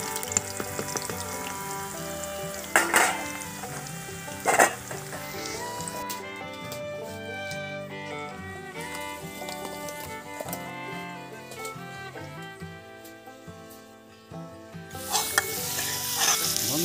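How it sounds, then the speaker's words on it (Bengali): Potatoes fry in hot oil for a mutton curry, giving a continuous close sizzle with occasional sharp stirring clatters, under soft background music. "তেল গরম হয়ে গেছে, আমি আলু কটা ভেজে নেব।"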